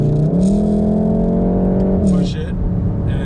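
A Volkswagen Golf R engine revs hard under full throttle, a loud close droning note that climbs steadily, then drops briefly as the gear changes and picks up again, with voices talking over it.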